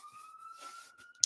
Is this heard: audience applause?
no